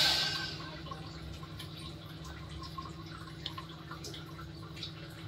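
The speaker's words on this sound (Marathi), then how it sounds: "त्याच्यात थोडंसं पाणी टाकूया" A short hiss as water hits a hot kadai fades quickly, leaving a low steady hum and a few faint drips.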